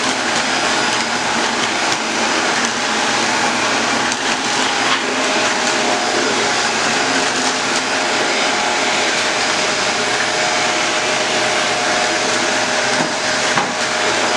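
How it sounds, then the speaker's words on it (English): A Shark Apex Duo-Clean vacuum cleaner runs across a bare floor with a steady, loud, close-up motor roar and airflow hiss that holds without a break and has no talking over it. "My daughter's doing the vacuuming."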